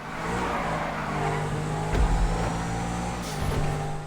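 A fast car in the video game GTA 5 Online drives with a steady, loud engine drone, swelling in a couple of brief revving bursts near the middle and end.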